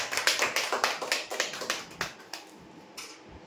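Scattered clapping from a small audience at a weekly customer prize draw, celebrating a TV-corner winner. Irregular claps sound at close to moderate range and thin out toward the end, with no talk over them.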